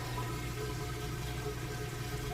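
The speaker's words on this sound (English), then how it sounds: "you can hear it draining that water out." A Whirlpool HE washer drains water after the wash cycle, a steady close gurgling rush with a low pump hum running without a break.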